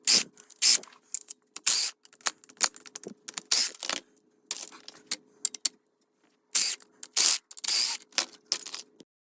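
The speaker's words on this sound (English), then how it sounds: "I'm unscrewing the bindings here. You just have to take several screws out and they come right off." Screws being removed from old ski bindings with a screwdriver make a close series of short, sharp metallic clicking and ratcheting bursts in irregular clusters, with brief pauses between and no talking.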